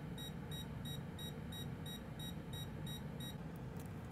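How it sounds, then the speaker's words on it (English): On a PS5 console board being repaired, a voltage injection tool beeps regularly at a short circuit, about two short beeps per second, faint over low background hum. "I have my voltage injection tool beeping to indicate that we have a short."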